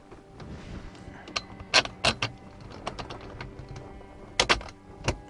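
Metal bolt from a steering wheel lowering bracket kit on an Austin Mini being fitted, a series of close, sharp clicks and taps in irregular bursts, with no talking.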